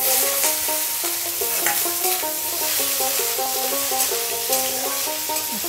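Chopped potatoes fry in a pan, a steady, even sizzle with crackling throughout and occasional soft stirring, with no voices.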